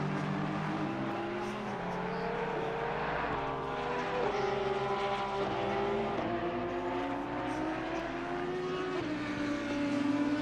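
Two Porsche GT3 race cars run together at Imola in Assetto Corsa Competizione. Their engines give a steady, loud drone with rising and falling pitch as they work through the gears toward a chicane, continuous and without voices.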